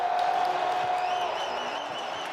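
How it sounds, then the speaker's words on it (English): Football crowd in the St. Louis dome at an XFL game, Arlington Renegades at St. Louis Battlehawks, a steady loud roar of cheering filling the space with whistle-like tones rising above it. "this crowd fired up inside the dome in St."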